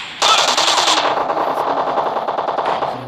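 Loud, close gunfire from a shotgun in a PUBG team deathmatch on Erangel rattles in a rapid, continuous volley for about three seconds, sharp at the start and then settling into a steady stream of shots.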